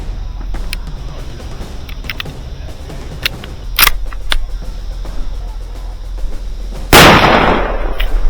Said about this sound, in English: waiting for that first shot to crack the silence